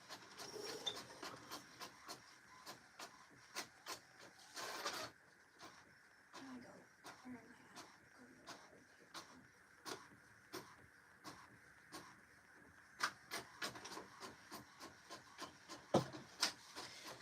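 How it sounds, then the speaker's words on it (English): A printer runs out a sewing pattern, its faint, repetitive clicks and soft mechanical rubbing ticking along steadily at a distance. "My pattern's printing."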